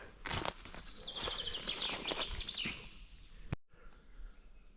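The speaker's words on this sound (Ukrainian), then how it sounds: "Щось і пташки у нас слабенько співають." Birds chirp and twitter in a forest, a few short high calls fairly close, mixed with rustling footsteps on the forest floor, then quieter fainter birdsong after a brief cut.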